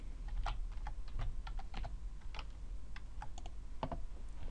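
Rapid, uneven keystrokes tapping on a computer keyboard, close and quiet, in short bursts over low room hum.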